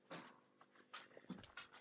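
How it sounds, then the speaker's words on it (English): A small female dog whimpering and panting close by in short, uneven bursts of soft whines and breathy huffs, quiet and without talk. "my little girl of a dog"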